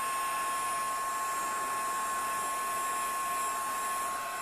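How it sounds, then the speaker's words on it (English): An embossing heat tool blows a steady, loud whirring hiss with a fixed high whine, melting embossing powder on a handmade Christmas cardinal gift tag, running continuously throughout with no talking. "then just melt that embossing powder"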